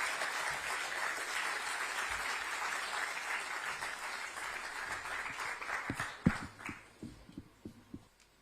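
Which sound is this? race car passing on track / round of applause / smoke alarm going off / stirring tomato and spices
round of applause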